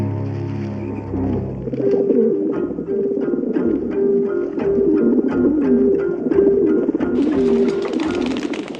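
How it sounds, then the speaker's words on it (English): Pigeons coo in a steady rhythmic series of soft, repeated calls, fairly close and continuous over a low background murmur. "Never saw a single pigeon before. They've come back."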